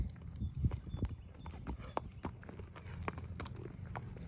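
Quarter horse gelding walking outdoors, a clear irregular clip-clop of hooves stepping repeatedly, faint and moderately close with no talking over it.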